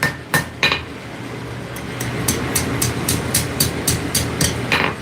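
A hammer strikes round steel on an anvil during forging: two separate ringing blows first, then a steady rhythmic series of about ten bright metallic strikes, loud and close.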